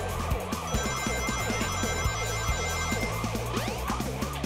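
A police car siren in the Sonic Adventure DX video game wails steadily over loud, busy game music with a pounding beat.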